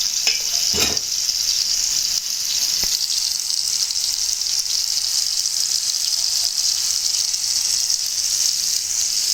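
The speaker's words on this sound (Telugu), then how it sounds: "ఫిష్ ముక్కలు దానిపైన పెట్టేసాక కొంచెం మళ్ళీ పైనుంచి ఆయిల్ వేసుకోవాలి." Fish pieces fry in oil for a Telangana fish fry, giving a loud, steady, dense sizzle throughout, with a couple of brief sharp crackles early on and no talking.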